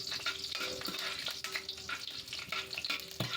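Cloves and black peppercorns dry-roasting in a pan over a very low flame, with a soft steady sizzle and light crackle throughout, stirred now and then, close and quiet with no talk.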